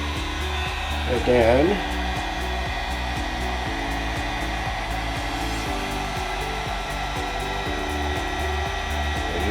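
A heat gun set to level 2 warms Veraform modelling material with a steady, close blowing whir that runs the whole time, and a voice speaks briefly near the start.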